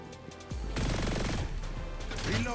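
Sustained automatic weapon fire in the video game Hyper Scape, a continuous rapid stream of loud shots kicking in after half a second and running unbroken to the end, with no voices.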